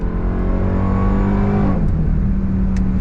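A 2024 Dodge Durango SRT Hellcat SUV revs hard under full throttle, its engine note climbing loud and close before it shifts and settles into a lower, steady roar.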